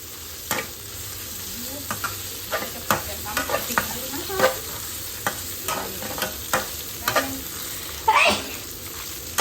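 Holy basil leaves being stirred and tossed in a hot pan for chicken stir-fry, with scraping strokes of the spatula over a steady sizzle and frequent clatters.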